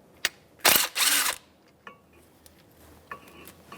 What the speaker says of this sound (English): So 14mm wrench or socket. Take those slider pins out